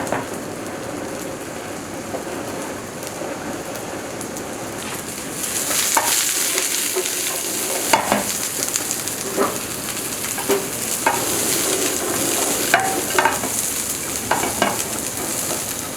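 Vegetables for a chicken stir fry sizzle and hiss in a hot pan, a steady frying crackle that turns louder partway through, with scattered clinks and scrapes of stirring and no voices.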